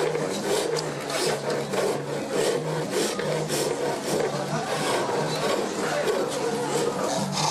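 Wood being worked by hand in a Moroccan souk, with continuous rasping and scraping strokes in a steady rhythm, close and busy.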